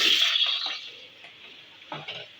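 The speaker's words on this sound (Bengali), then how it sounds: "আলুগুলা ভাজা হয়ে গেছে" Potatoes frying in homemade beef-fat butter with bay leaf in a pan, a bright hiss that starts loud and eases into a softer sizzle, with a few scraping stirs, no talk.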